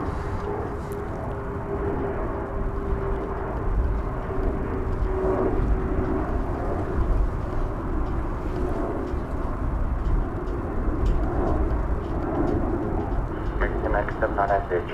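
American Airlines airliner starting its takeoff roll on runway 36 right at Dallas/Fort Worth airport, a steady broad engine roar that holds loud for the whole stretch beneath crackly tower radio chatter.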